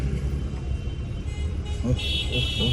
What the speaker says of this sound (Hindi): ओ भाई साहब कितना ट्रैफिक है श्रीनगर में आज।